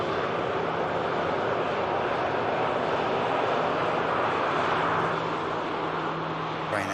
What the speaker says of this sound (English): Ryanair just taxiing past there after arriving from Lanzarote.